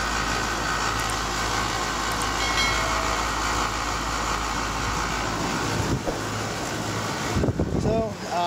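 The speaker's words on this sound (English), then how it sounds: "Threw a booster on there just to see if I can get the compressor to fire. Still nothing, and you can hear the way it sounds as well." A 2-ton AC condenser with a booster fitted hums and drones as its compressor fails to start. The sound is steady and near, ends with a brief clunk and rattle, and talk runs over it.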